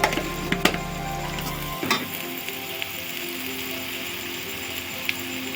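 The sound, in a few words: stirring coriander powder and spices into egg curry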